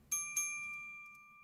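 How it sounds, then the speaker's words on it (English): Two bright glockenspiel notes strike in quick succession like a chime, each ringing out clearly and decaying slowly in an otherwise quiet space. "There's a bit of Glockenspiel in this as well."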